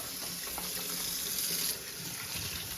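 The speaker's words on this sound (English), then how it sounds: "I always like to wash my hands after cracking open eggs." Hands are washed under a running kitchen faucet in a home kitchen while eggplant Parmesan is prepared, the water a steady, continuous close hiss with no voices.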